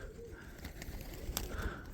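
Soft low cooing of pigeons in winter, faint and close, with a brief rustle and a small click partway through.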